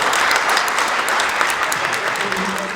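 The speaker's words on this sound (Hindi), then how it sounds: "मैं चाहूँगा कि आप बहुत सारी तालियां दें" An audience at a Pakistan Day community event applauds, a dense and loud burst of clapping that holds steady from start to finish, with voices murmuring underneath.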